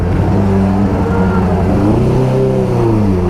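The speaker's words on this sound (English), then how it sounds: "It doesn't pop out of gear while you're accelerating" A 1976 Honda CB550 motorcycle engine runs steadily and loud up close, its pitch climbing and dropping as it accelerates through gear shifts, with a rising tone in the last second.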